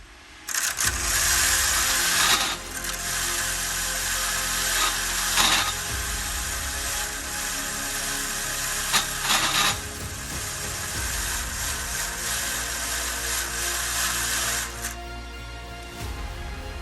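A Traxxas Bandit RC car with two motors and two-speed gearing on 4S batteries, running in second gear: a steady, loud electric motor whine with drivetrain buzz that surges and dips several times across the stretch, with no talking.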